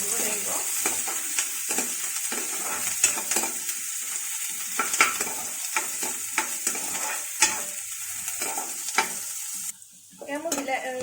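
Chopped onions sizzle and fry steadily in a pan while being stirred until reddish, with close, continuous crackling broken by scraping stir strokes and a short quieter pause near the end.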